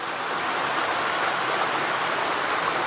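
A small waterfall in a hemlock natural area, its water rushing in a steady, dense wash that stays even and fairly close throughout, with no voices.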